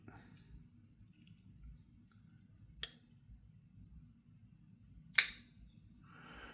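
Pena X Series Apache folding knife being snapped open, two sharp isolated clicks of the action spaced a few seconds apart against a quiet background.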